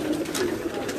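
Young racing pigeons from a breeder's loft near Dina, Jhelum coo softly and repeatedly in low, rolling murmurs, close by and without any voices.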